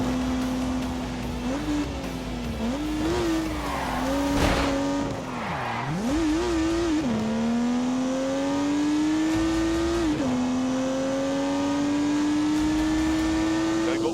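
A turbocharged 3-litre straight-six road car in The Grand Tour Game revs hard and steadily throughout, its engine note climbing and dipping through gear changes, with a brief tyre squeal near the middle and voices underneath.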